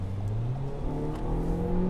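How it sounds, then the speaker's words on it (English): A 2022 Toyota Corolla Apex Edition engine hums steadily while the car drives through a turn, its low, continuous drone slowly climbing in pitch as the motor revs, close and even throughout. "you hear just the expression of that motor as it just comes alive"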